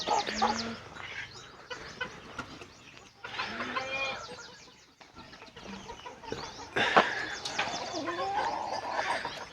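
Free-range desi chickens clucking and scratching about while foraging in a drumstick tree orchard, in scattered bursts, moderately near, with rustling and background noise between the calls.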